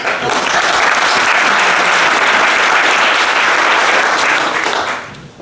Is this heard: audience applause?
yes